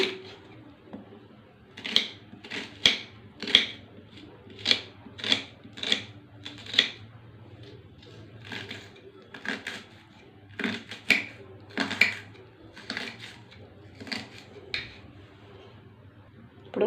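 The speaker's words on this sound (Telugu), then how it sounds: "పచ్చిమిరకాయలు ఉల్లిపాయకు కోసుకున్నానండి" A knife chops green chillies and onions on a board in a Telugu home kitchen, a quiet steady series of sharp taps in bursts, close and alone with no talking.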